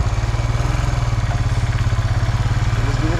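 A motorcycle engine idles close by with a steady, rapid low-pitched chugging pulse that stays even throughout.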